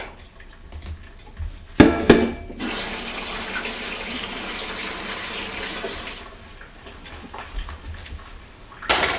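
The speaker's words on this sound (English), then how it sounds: "I take this over to the sink and I'm just going to cover it with water" Water runs steadily from a tap into a pot at a kitchen sink for several seconds, filling it for chicken broth, with a few clanks before and after the flow, close and fairly loud.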